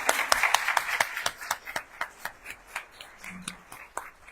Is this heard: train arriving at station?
no